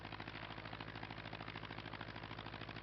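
Steady drone of a light aircraft engine held at run-up RPM with carburetor heat applied, a constant rhythmic throbbing hum with no talk over it.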